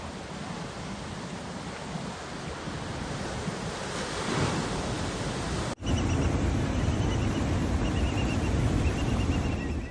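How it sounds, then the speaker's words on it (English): Large ocean waves surf against the California coast during a Pacific storm, a continuous loud roaring wash with wind buffeting, briefly cut by an edit before the roar resumes. "Huge low-pressure systems in the Pacific Ocean are pushing large groups of waves toward the California"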